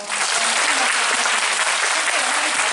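Sustained applause from a festival audience at a film screening Q&A for the Korean film Next Sohee at Busan International Film Festival, dense and steady clapping filling the hall for the whole stretch without pause.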